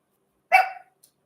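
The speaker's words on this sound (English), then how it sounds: "See, the little dog's barking up a storm now." A small dog gives one sharp, close bark, followed by a faint brief yip and then quiet.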